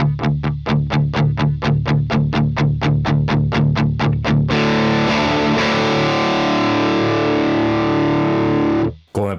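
An electric guitar runs through the enhancer block of a Fractal Axe FX with width set to zero, first chugging fast, evenly repeated distorted palm-muted notes, then ringing into a sustained, loud distorted chord that cuts off abruptly.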